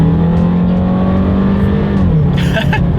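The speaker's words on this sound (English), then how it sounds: "let's do a quick little acceleration test here and see how quickly we can get this one up to speed" A 2018 Volkswagen Beetle Coast accelerating hard from inside the cabin, its engine note rising in a steady drone that shifts pitch near the end as speed builds, loud and continuous.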